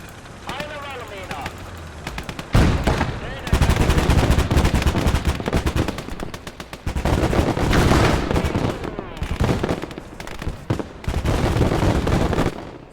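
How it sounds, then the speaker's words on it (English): Rapid bursts of 20 mm cannon fire rattle in a wartime video game, loud repeated volleys separated by short gaps, with someone talking over the shooting. "we're going to lay waste to this objective with these 20 mil cannons"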